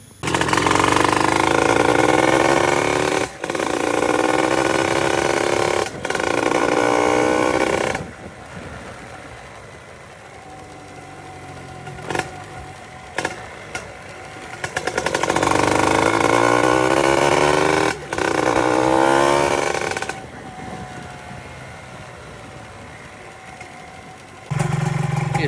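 Motorcycle with an enlarged 57mm exhaust on a highway, revved high: a loud, close engine roar climbs through repeated gear runs, dropping to quieter idling and cruising stretches between bursts.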